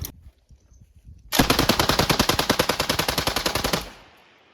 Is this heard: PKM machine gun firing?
yes